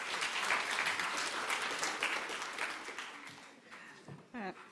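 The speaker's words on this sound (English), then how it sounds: "Let's give Felicity a round of applause." An audience at a financial industry conference applauds for Felicity, a dense wash of clapping that gradually thins and fades, with a voice briefly emerging near the end.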